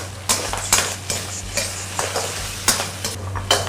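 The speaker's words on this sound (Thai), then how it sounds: "ทีนี้เราก็จะผัดให้เขา แห้งน้ำอีกรอบหนึ่ง" Wide rice noodles stir-fried in a hot pan with seaweed, a spatula scraping and clattering against the metal in quick irregular strokes over a steady sizzle, close and fairly loud, with no speech.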